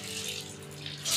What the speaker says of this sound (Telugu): ఇలా కూడా వేస్తాడు వాటర్.